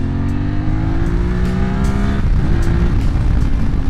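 A QJMOTOR SRT600SX motorcycle accelerates at full throttle from low revs, its engine note climbing steadily and loudly close by for almost four seconds without speech.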